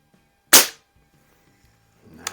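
A rebuilt Sheridan F series CO2 Blue Streak air rifle fires a single sharp, loud crack in an otherwise quiet outdoor setting, followed by faint rustling and clatter near the end.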